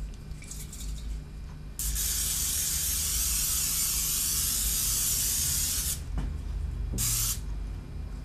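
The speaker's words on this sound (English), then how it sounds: "you spray the pan. Spray the pan" A steady, loud cooking spray hisses onto a baking pan for several seconds, followed by a couple of short spurts after a pause.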